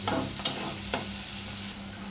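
Onion and shrimp sizzle in a pan with salt, turmeric and chili, a couple of quick scraping stirs up front, then a steady close frying hiss.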